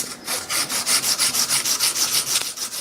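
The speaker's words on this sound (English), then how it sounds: "give it a bit of a rub up with this 400 emery" A steel part clamped in a vise is rubbed by hand with 400-grit emery cloth, giving close, steady rhythmic scraping strokes, roughly five per second, with no talking.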